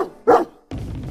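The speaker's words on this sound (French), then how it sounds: "Aboya le chiot." A puppy gives a single short, high bark up close, followed by a muffled thump and low rumbling.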